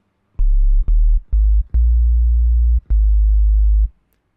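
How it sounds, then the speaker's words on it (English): A synthesized sine wave with an oscillating quality sounds in a run of pure, low tones of uneven length, each starting with a small click, with brief gaps between them and then silence. "that's still just a sine wave with an oscillating noise"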